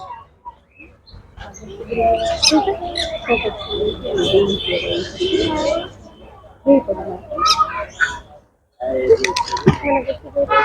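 A parrot squawks and chirps in short bursts, close by, at an open aviary zoo in Surat, as a person talks over and between the calls.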